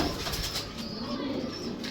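Golden pigeons coo softly and repeatedly under a steady, noisy background hum, the low murmuring calls blending into the din at close range with no voices.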